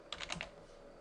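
A command is typed on a computer keyboard in a quiet room: four quick, light key clicks in a short burst, then near silence.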